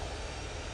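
A Ryanair airliner at Manchester Airport on its takeoff roll produces a brief, fairly faint, steady engine roar with no talk.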